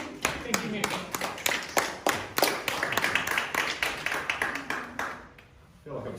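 A crowd claps and applauds steadily, the sharp hand claps fairly close, tapering off toward the end with a voice at the close.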